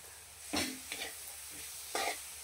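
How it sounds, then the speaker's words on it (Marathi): Grated coconut and milk cream are roasted in a pan with a spatula, giving a faint sizzle and three distinct scraping stirs, each a brief gritty swish. "आता याला वितळेपर्यंत चांगलं असं भाजून घ्यायचं"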